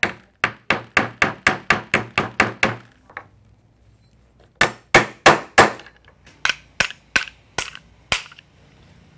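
A gold adapter for an Echo or Shindaiwa string trimmer head is knocked out with a rapid series of sharp, loud hammer blows. A fast run of about ten is followed by a pause, then a second, slightly slower run, all close up.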